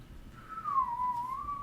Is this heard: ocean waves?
no